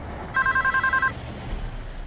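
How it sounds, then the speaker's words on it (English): Telephone bell rings at an American Airlines office, one clear burst of rapid trilling pulses lasting under a second, then quiet room tone. "In the meantime, phones were also ringing at American Airlines."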